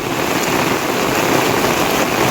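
Heavy cloudburst rain pours down in Manegaon, Madha taluka, a dense, steady roar of water hitting surfaces that stays loud and unbroken throughout.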